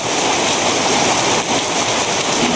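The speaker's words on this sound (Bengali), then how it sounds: "বাইরে প্রচুর পরিমাণে বৃষ্টি এই যে দেখেন বৃষ্টি প্রচুর বৃষ্টি" Heavy rain pours down steadily, a loud, dense hiss with no pauses.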